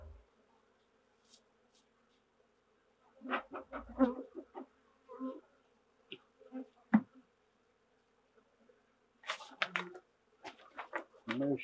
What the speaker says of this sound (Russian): Ну и все, закрываем наших пчелок.